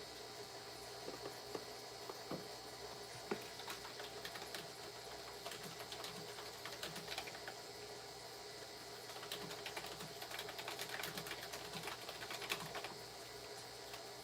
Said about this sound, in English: You guys can probably hear me typing.